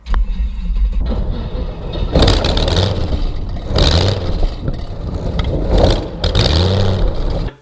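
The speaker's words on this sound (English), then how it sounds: "throttle response on this engine was incredible" Chevy V8 engine of a P-51 Mustang replica kitplane, geared to a slow-turning propeller, revving in repeated loud surges over a steady low rumble, close by with no talk.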